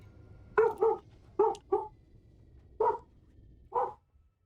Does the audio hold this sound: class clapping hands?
no